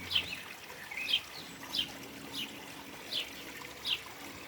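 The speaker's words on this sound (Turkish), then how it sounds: "Su sesi, kuş sesleri eşliğinde günü kapatalım." Birds chirp in short, regular calls over a faint, low trickle of water in a quiet outdoor setting.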